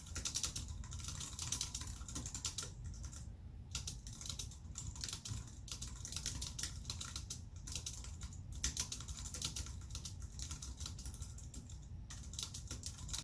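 Typing on a PC keyboard with scissor-style switches: a steady, quiet patter of soft key clicks in quick, irregular bursts with brief pauses, close up and alone.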